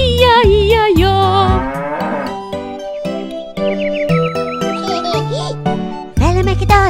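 Sung cow moos in a Portuguese Old MacDonald nursery rhyme, several drawn-out imitated moos by a voice over bright children's song accompaniment with jingles, loud and close.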